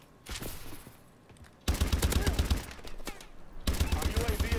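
Light machine gun fire in Call of Duty: Advanced Warfare, two long sustained bursts of rapid, loud automatic shots, the first short and quieter, with a player talking between them.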